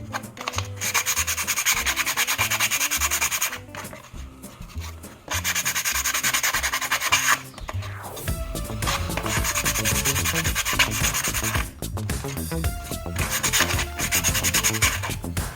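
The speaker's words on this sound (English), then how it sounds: "now that I'm all done sanding" Wood pieces for a birdhouse craft are sanded by hand in long, rhythmic rubbing strokes, close and fairly loud, with brief pauses between passes.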